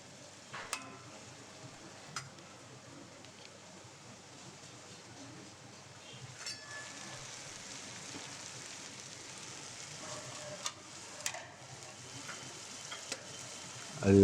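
Prawns simmering in masala for prawn dum biryani, a faint, rain-like sizzle and bubbling that holds steady, with occasional light clicks and taps of utensils, quiet and without talk.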